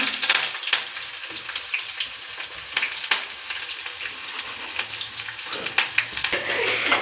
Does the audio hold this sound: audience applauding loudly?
no